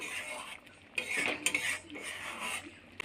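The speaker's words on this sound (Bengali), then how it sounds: "দিয়ে একটু নেড়ে নেব।" A spoon stirs pointed gourd curry in a pan with salt and sugar just added, giving a few close scraping and clinking strokes against the metal over a faint background hum.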